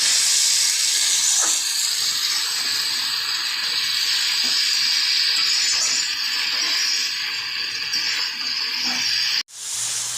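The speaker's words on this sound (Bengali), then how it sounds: "যতক্ষণ না কাঁচা মশলার গন্ধটা চলে যায় ততক্ষণ আমি এটাকে ভালো করে কষাবো" Spice paste being sautéed in a pan for a cabbage dish with rohu fish head, giving a steady close hiss and sizzle that runs unbroken and loud, then cuts off abruptly near the end.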